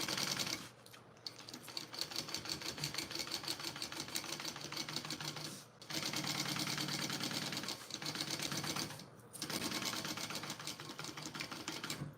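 A sewing machine runs steadily, top stitching an opened seam, its dense mechanical whirr holding for long stretches with brief pauses, up close and alone.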